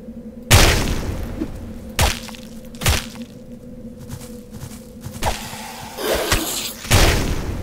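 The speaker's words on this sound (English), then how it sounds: "Forgot about those bombs." Bombs bursting in the dungeon game Oubliette, a string of sharp thuds and cracks spread over several seconds, loud and close, with a steady hum running underneath.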